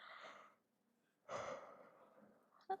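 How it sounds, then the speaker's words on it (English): A person yawns with a long, drawn-out breathy exhale that swells and slowly fades, followed by a short sharp sound at the end. "That was a yawn I was not expecting"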